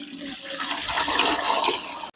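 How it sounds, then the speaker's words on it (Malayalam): Water being poured into a cooking pot for rice for a vegetable biryani, a short close splashing gush lasting about two seconds before stopping abruptly. "നമുക്ക് റൈസ് പോകാനുള്ള വെള്ളം ഒഴിച്ചു കൊടുക്കാം."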